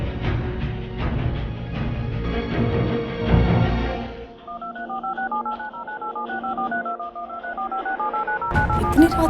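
A telephone sounds a rapid run of touch-tone dialing beeps, followed by a steady repeating ringback tone heard over a loudspeaker, and a louder burst of sound closes the clip.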